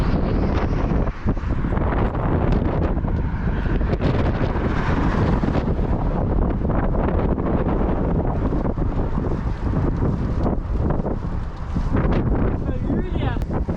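Strong wind from Cyclone Thor buffets the microphone on a roadside by the Po river in Italy while cycling past heavy traffic, a loud, constant rumbling roar that fills the whole clip.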